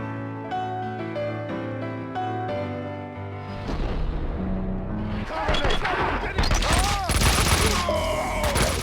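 Gunfire in the video game Max Payne 2: after a stretch of sustained musical tones, loud bursts of shots and impacts erupt and continue densely to the end.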